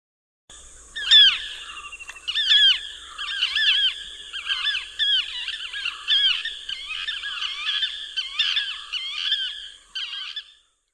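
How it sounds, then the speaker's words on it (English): River terns call harshly and repeatedly at a nesting colony, with overlapping shrill cries in rapid, chattering bursts that continue throughout. The calls are clear and fairly close, with no talk. "River-terns are very vocal birds. They are highly territorial and thus create quite a ruckus."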